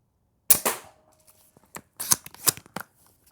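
Novritsch SSG11 airsoft sniper rifle firing at about 15 meters: one sharp, close snap, then a quick cluster of clicky mechanical noises, probably the bolt being cycled, all with no voices.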